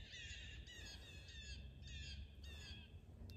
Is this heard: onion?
no